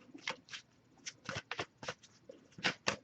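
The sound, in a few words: shuffling oracle cards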